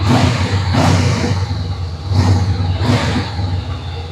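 A 2025 Honda NX500's 471cc parallel-twin engine revs up several times in quick succession, rising and falling in pitch, loud and close with a steady rumble underneath.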